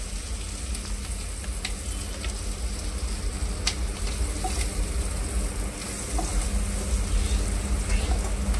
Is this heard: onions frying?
yes